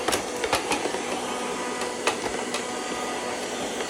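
An ONSON robot vacuum runs in zigzag cleaning mode, a steady whirring motor hum with scattered clicks and light bumps as it moves across the floor, nearby and without talking.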